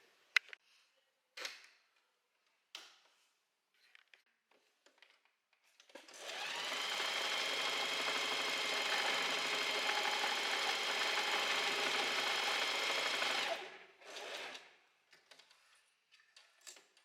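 A sewing machine runs a long gathering stitch along a dress, humming steadily for about seven seconds at close range, with faint handling clicks before and after.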